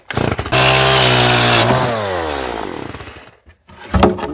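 A power saw cuts through wood for a door: a loud, steady motor whine that holds for over a second, then pitches downward as the blade bites and winds down, followed by a brief clatter.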